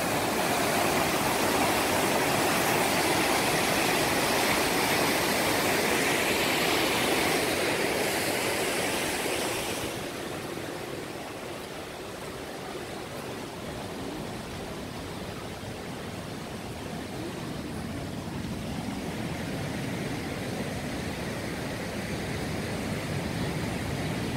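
Rough, steady roar of a swollen river surging into the sea in Sochi during flooding, loud broadband water noise that drops slightly in level partway through and continues alone without voices.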